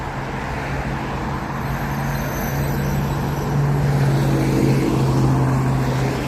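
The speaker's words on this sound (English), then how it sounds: "See, another bus." A bus on a road passes close by with a steady, loud engine drone and road rumble that swells toward the end, heard without any talking.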